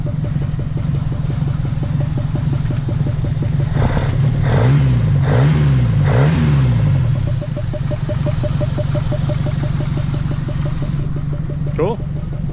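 Bagged and bodied Mazda B2200 pickup truck engine running close and loud, with a few rising revs in the middle over a steady idle, and a voice speaking over it.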